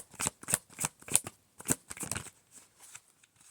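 Oracle cards being shuffled and drawn by hand, a string of crisp, close riffling bursts in an uneven rhythm that taper into softer card handling.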